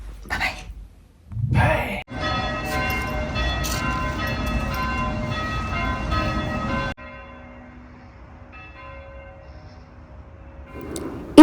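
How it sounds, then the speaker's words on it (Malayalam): Church bells ring from a nearby church beside a Christmas market, a sustained, dense ringing tone that swells after a quieter start and then cuts to a fainter lingering hum, with a brief rustle near the end. "പള്ളിമണിയുടെ ഒച്ച ബാക്ക്ഗ്രൗണ്ടിൽ കേൾക്കായിരുന്നു ഞങ്ങൾക്ക്"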